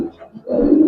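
A single old-breed Giribaj pigeon at a pigeon fair gives a brief, loud, low coo that swells toward the end.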